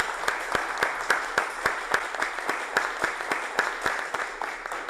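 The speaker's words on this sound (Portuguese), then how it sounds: "Eu queria uma salva de palmas pelo trabalho desses caras aí." A small audience claps at a tech event, distinct individual claps landing in a fairly even rhythm, close and clear, continuing steadily for several seconds.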